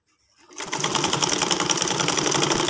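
Sewing machine starting up after a brief silence and stitching a trouser seam, a loud continuous rapid clatter of needle strokes running steadily to the end.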